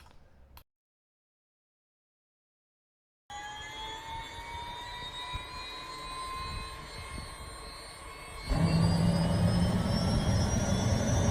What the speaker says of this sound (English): there ain't nothing better than the sound of a nice turbine spinning up